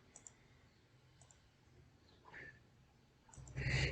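A few faint, crisp computer mouse clicks in a quiet room during virtual machine setup in VMware Workstation, with a soft rustle and a louder burst of handling noise at the end.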